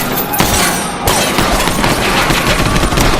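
Film gunfire as rebels are shot at: loud, dense bursts of rapid automatic shots that roar continuously with a brief break early on, close and overwhelming.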